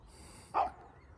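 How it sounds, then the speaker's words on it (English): One short dog bark sounds from a moderate distance against a quiet background with a faint high whine. "the doggy is barking at me"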